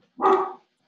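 A dog gives one short, sharp bark, close and clear, standing alone in silence.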